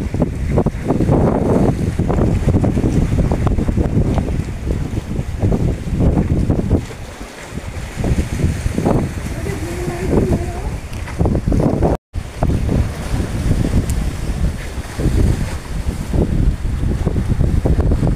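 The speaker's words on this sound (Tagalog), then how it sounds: "ang lakas-lakas ng alon." Strong sea waves slap and roar against a small wooden outrigger boat off Dumangas, Iloilo, with heavy wind buffeting the microphone throughout, a brief dropout midway, and voices calling out over the continuous rushing water.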